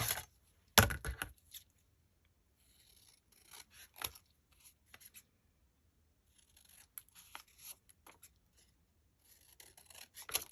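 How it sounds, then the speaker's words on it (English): Long scissors snipping and rasping through paper for vintage Christmas craft ephemera, heard as close, intermittent cutting bursts separated by quiet pauses. "I want a pair of longer scissors"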